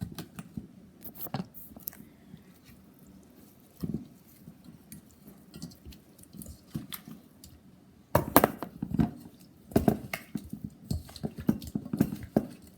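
Hands squish and mix raw shrimp with garlic, herbs, spices and lime juice, producing soft, wet, sticky squelches and clicks that come in irregular bursts, closer and busier toward the end.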